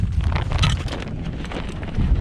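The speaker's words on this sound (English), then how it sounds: "It's a little breezy out today" Gusty wind buffets the microphone outdoors on a winter day, giving a loud, rumbling roar that swells and eases without any voices.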